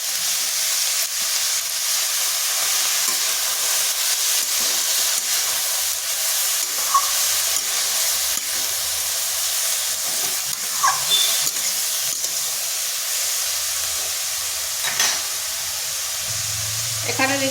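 Potatoes and carrots frying in a pan with a steady, continuous sizzle and hiss, with a few faint clinks of stirring partway through and no voices.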